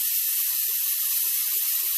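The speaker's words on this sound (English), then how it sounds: "So I just got my little Mighty Vac thing here, hooked to my air compressor." Steady, loud hiss of a Mighty Vac pump hooked to an air compressor, sucking oil out of a Cub Cadet tractor, an unbroken airy rush with no pauses.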